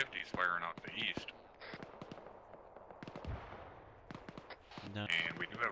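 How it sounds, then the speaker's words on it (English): .50 caliber machine gun fire in the distance during a field training exercise, with scattered sharp reports and short bursts at varied loudness, interspersed with quiet voices talking nearby. "I hear one of our 50s firing out to the east."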